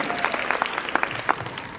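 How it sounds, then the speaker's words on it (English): An audience at an Orlando convention panel for Once Upon a Time claps in a short, brisk burst of applause. "Yeah, clap."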